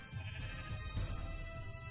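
Sheep in the Minecraft video game bleat in a few wavering calls, clear and close, with no talk over them.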